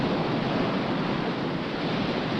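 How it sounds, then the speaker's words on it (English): Ocean surf at Rincon, Puerto Rico, during a 1968 world surfing championship heat, heard as a steady, loud wash of breaking waves and wind that fills the whole stretch with no voices. "the surf seems to be building"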